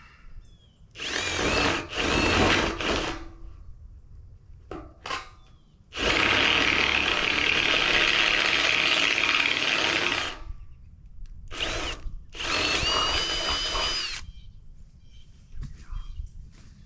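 A power drill drives a bolt into a wooden shed frame in repeated close, loud bursts, with short gaps between runs and one long sustained drive in the middle.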